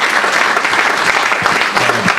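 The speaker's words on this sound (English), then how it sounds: "Women and men, please give a round of applause for that." Audience applause at a Ripon Society event with senators speaking, a dense, steady roar of many hands clapping together, loud and close, sustained throughout.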